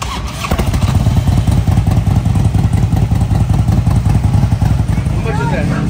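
A motorcycle engine cranks and catches at a Galveston rally, then runs in a loud, close, steady putter, with voices in the background.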